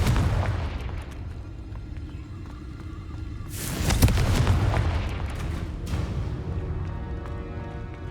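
A Confringo spell blast in Hogwarts Legacy lands as a loud booming burst around the midpoint, followed by a rumbling tail and a second lighter impact over a steady low game-ambience bed.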